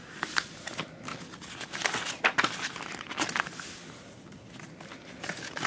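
Paper being folded back and forth into a zigzag fan, heard as close, irregular crinkling and crisp creasing in bursts, fairly quiet, with no talk.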